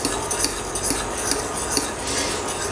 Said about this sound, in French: Moi, je fais ça à la fourchette